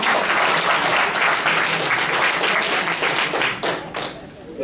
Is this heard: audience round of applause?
yes